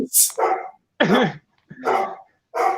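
A dog barks in several short, loud bursts close by, spaced roughly half a second apart, with a brief high yelp at the start.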